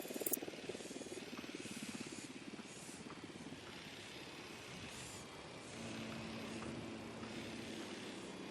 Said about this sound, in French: Baissez-vous, un hélico.